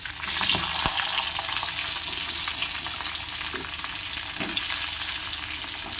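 Potatoes frying in hot oil with nigella seeds and green chillies make a loud, continuous close sizzle, with a few soft stirring knocks against the pan.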